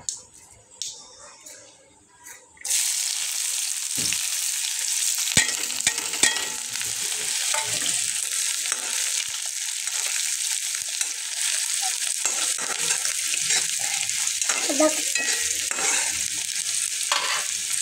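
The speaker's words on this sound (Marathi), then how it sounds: "आता कांदा चांगला तळसून घेऊ." Onions sizzle and fry in hot oil with mustard seeds, a loud continuous crackling hiss with occasional stirring scrapes, after a few quiet seconds.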